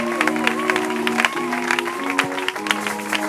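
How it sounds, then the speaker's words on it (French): Church congregation applauding and cheering to praise God, scattered claps and shouts rising over held organ-like tones, fairly loud and lively throughout. "continue d'acclamer Dieu"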